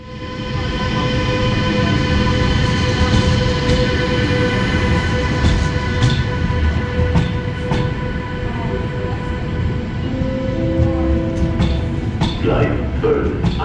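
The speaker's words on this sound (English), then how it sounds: "here you can see our train arriving at the main station of Hanover" A Deutsche Bahn Intercity 1 train pulls into Hanover main station with a loud rumble and squealing brakes as it slows, then tonal hums and clanks. A voice speaks over the arrival.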